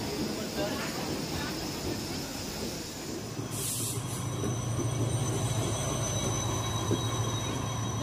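A passenger train runs near Bharatkund station by Ayodhya, its rumble and rail clatter growing heavier partway through, with a brief hiss and a steady low drone as the wagons roll on.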